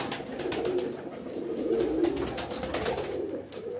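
Pigeons coo close by in a loft, including a female bird. Low, throaty coos repeat in soft rhythmic bursts over a light background hiss, with no talking.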